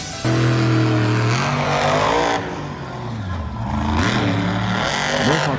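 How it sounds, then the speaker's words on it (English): Mohawk Warrior Fire, a Cadillac Escalade monster truck driven by Bryce Hunt, revving its engine in loud bursts that rise and fall, close by, with a brief lull in the middle. "Mohawk Warrior Fire was a Cadillac Escalade monster truck owned by Feld Motorsports."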